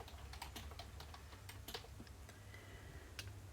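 Steady typing of code on a computer keyboard, a quick irregular run of light clicking keystrokes, close and soft, with no voices.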